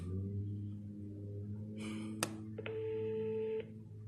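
A telephone rings during a call, heard as a short tone, a sharp click and then a longer steady ring tone, faint under a low background hum.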